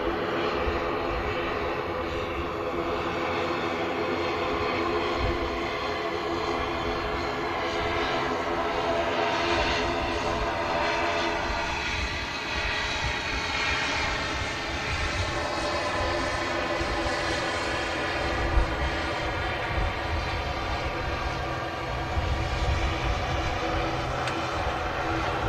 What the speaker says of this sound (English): An EasyJet next to land in from Geneva